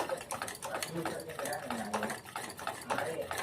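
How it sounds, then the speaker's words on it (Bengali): Motichoor laddu batter is whisked with small additions of water in a bowl, giving faint, quick tapping and stirring clicks in a soft rhythm, with a person talking throughout. "অল্প অল্প করে আমরা মিশিয়ে ব্যাটারটাকে তৈরি করে নেব"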